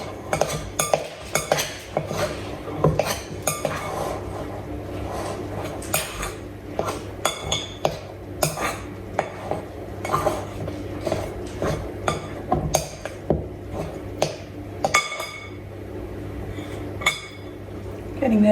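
Scone dough being mixed in a bowl with extra flour added, giving steady scraping and clinking of a utensil against the bowl, with repeated sharp knocks throughout, close and fairly loud.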